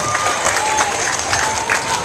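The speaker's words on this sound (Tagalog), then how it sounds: "Mas mainit na palakpak para kay Mayor Sandy Panginoon." A crowd applauds warmly for a town mayor at a public ceremony, dense sustained clapping with some cheering mixed in and voices murmuring underneath.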